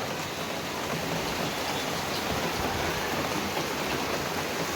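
Steady rain pours down on a monsoon morning in Ahmedabad, a dense, even hiss of falling water that holds at the same close, constant level throughout with no voices.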